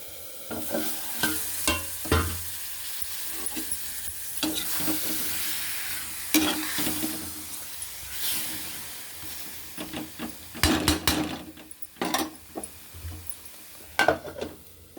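Mutton masala frying in oil over low heat is stirred with a spoon, giving intermittent scraping strokes over a steady gentle sizzle and hiss, close and without voices.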